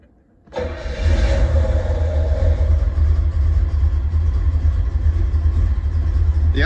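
A C4 Corvette engine, its throttle body freshly cleaned, starts up and holds a steady, deep, low idle close by, rumbling evenly with no talk over it.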